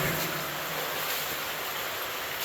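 Constant loud rush of water flowing down bedrock at an 1880s placer gold mine, a broad hissing roar that stays even from start to finish with no talking.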